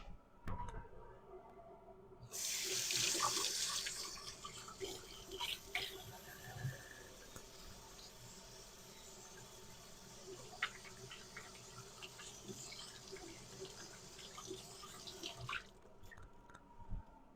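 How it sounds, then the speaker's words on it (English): A kitchen sink tap gushes on as hands are washed after handling raw Italian sausage, with a loud initial rush settling into steady running water, splashes and drips, then shutting off. "I'm going to wash my hands."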